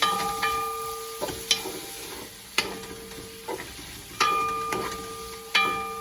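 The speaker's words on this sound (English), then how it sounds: "I just put one spring or two of the thyme in there. And I stir that around." Thyme sprigs stirred through sizzling vegan butter sauce in a pan: soft steady frying hiss with intermittent spoon clinks and scrapes against the pan, close and moderately quiet, no voices.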